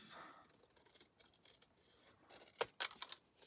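Scissors cutting a piece of spare card in half while making a folio, faint rustling and handling followed by a couple of sharp close snips near the end, quiet with no talking.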